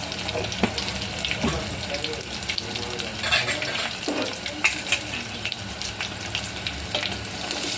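Curry leaves, garlic, cumin and turmeric tempering in hot oil for tomato charu, a steady hiss of frying with occasional stirring clinks, continuous and fairly close.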